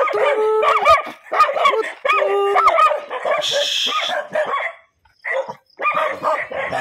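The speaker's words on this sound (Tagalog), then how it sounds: "Tapang yung mga aso guys." Several dogs bark and yip loudly and close by in repeated bursts, with one drawn-out howl-like cry, filling the clip with a short pause near the end.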